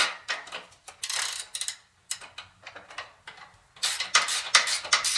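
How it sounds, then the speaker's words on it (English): A wrench ratchets a bolt tight on a homemade chute blocker for a Ferris 52-inch mower, producing several close bursts of quick metallic clicking with brief gaps between strokes. "I'm just going to take 2 wrenches to make it a little easier."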